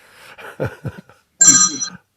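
A telephone ringing indoors: one short, loud burst of bright electronic ringing that follows a few scattered softer sounds and then stops abruptly.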